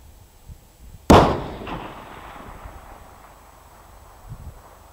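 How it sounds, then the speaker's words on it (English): A single long-range rifle shot from a TUBBGUN 6XC, one sharp loud crack followed by a trailing echo that fades out over a quiet outdoor background. "That was a hell of a shot."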